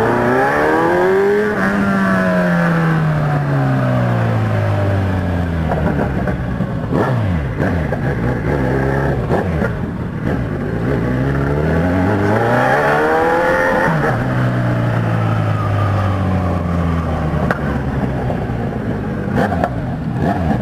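A Kawasaki Z1000 motorcycle with a loud aftermarket exhaust revs repeatedly near a market, the engine note sweeping up and down in several long throttle blips, close and loud throughout.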